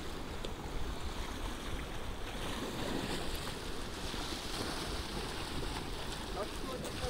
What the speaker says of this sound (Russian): Внизу плещется вода.